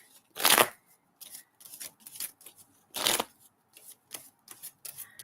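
Tarot cards being shuffled by hand, with two loud riffling bursts and several shorter, softer shuffles in between, close up and with no talking.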